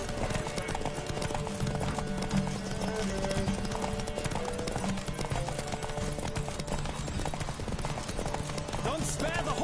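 Rapid hoofbeats of a galloping horse in the video game The Witcher 3: Wild Hunt clatter steadily, with music and faint voices layered over the top.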